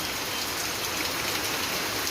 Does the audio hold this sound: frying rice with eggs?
no